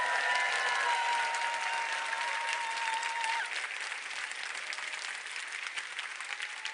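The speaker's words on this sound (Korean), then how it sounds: "자기 자신을 위해서 큰 박수 한번" Audience applause at a company presentation, a dense, steady wash of clapping from a crowd that carries throughout and eases slightly toward the end, with no talk over it.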